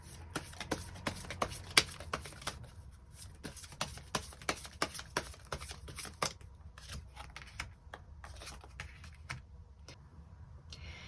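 Tarot cards being shuffled by hand, a close, steady run of crisp riffling snaps and soft card slaps repeating for about eleven seconds with no voices.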